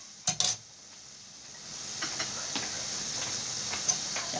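Chopped onion tipped into a hot pan for chicken shawarma: a couple of sharp clatters at the start, then a soft, steady sizzle that builds and holds, with faint ticks throughout.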